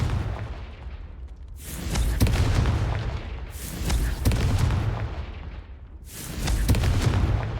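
Spell explosions from the Confringo curse in the Hogwarts Legacy video game: three loud, deep booming blasts, each swelling and rumbling for a couple of seconds before the next one hits.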